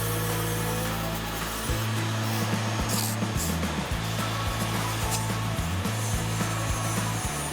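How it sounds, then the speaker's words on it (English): A Dremel rotary tool carving foam inside a gecko enclosure, a loud continuous whine that grinds and rasps as the pitch shifts up and down with the load, close and with no pauses. "we're going to use the Dremel to get all of those small little areas throughout this exhibit"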